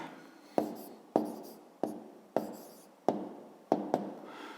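A pen writes numbers by hand in short strokes: six sharp taps, each followed by a brief scratchy scribble, spaced about half a second apart, close and fairly quiet.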